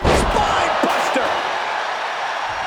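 Spinebuster slam in a WWE WarGames video game match, a heavy thud at the start followed by a couple of lighter impacts, with crowd noise and commentary talking over it.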